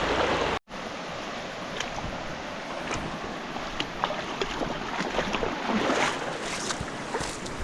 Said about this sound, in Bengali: দেখেন কি চমৎকার পানি বয়ে যাচ্ছে